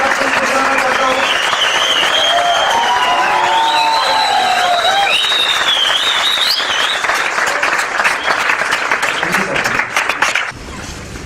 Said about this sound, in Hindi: एक बार जोरदार तालियों के साथ बुलाना चाहता हूं